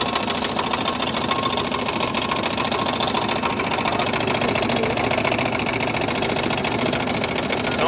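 A small boat's motor running steadily while crossing the lake at Ranjit Sagar Dam in Punjab, a constant close buzzing drone with rapid mechanical clatter and no pauses.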